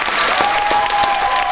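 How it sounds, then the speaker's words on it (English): Brief, loud applause from a group, dense clapping held level for a moment, with a thin tonal whine running beneath it. "Once again, a big round of applause."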